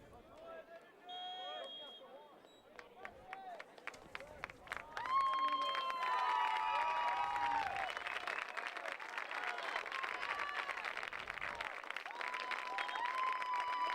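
Crowd applause at a boys' high school soccer game against Ponca City, rising from scattered claps into sustained clapping and cheering from spectators, with an announcer's voice and whistle-like tones in the mix.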